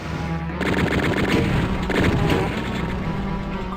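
Chaingunner enemy in Doom fires its chaingun in a loud, sustained burst of rapid gunfire with booming impacts, filling the whole stretch with no talk.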